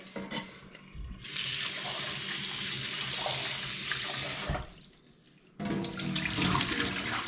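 Tap water runs steadily into a sink while sushi rice is rinsed, a loud, even rush that stops briefly for about a second and then starts again at full force.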